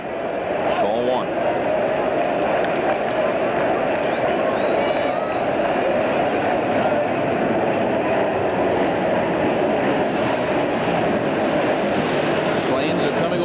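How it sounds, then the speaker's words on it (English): Airplanes fly low over Shea Stadium during a Padres at Mets baseball game, a loud, steady roar blended with crowd noise under a commentator's continuous talk. "Planes are coming over Shea today."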